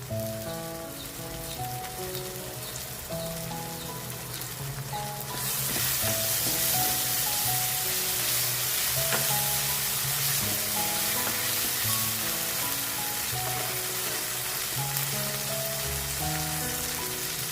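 Tomatoes and ginger-garlic paste fry in a pan with a steady, dense sizzle that grows louder partway through, close and continuous, with faint clinks of a spoon and no talk.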